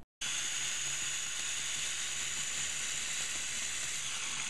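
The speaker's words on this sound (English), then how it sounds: "And then we are going to blend." A blender runs continuously on almond milk ice cream, kicking in abruptly after a split second of silence and holding a loud, steady whirring roar.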